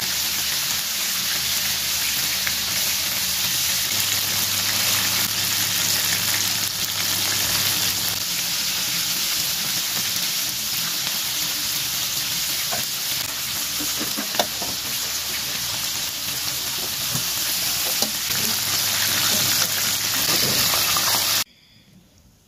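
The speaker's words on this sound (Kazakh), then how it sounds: "2 бетін қуырып алатын боламыз." Flour-coated chicken pieces frying in hot oil, both sides browned, give a steady dense sizzle and crackle that runs loud and close for about 21 seconds, then cuts off abruptly.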